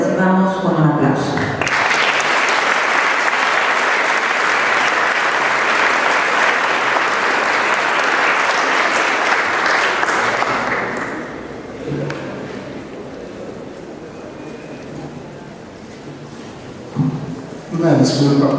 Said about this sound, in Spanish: Les pido a todos ustedes lo recibamos con un aplauso.